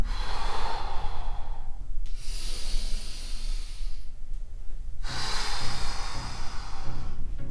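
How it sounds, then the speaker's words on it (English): Slow yoga breathing during a spinal warmup: a long airy inhale, a pause, then another drawn-out breath, close and steady with no talking. "So we inhale forwards and up, exhale back and down."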